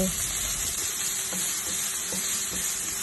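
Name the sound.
frying onion and chili in oil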